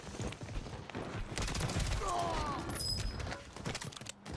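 Gunfire in the Warzone video game around the MORS sniper rifle, with bursts of shots and mechanical clatter over a busy game soundscape, while a player talks.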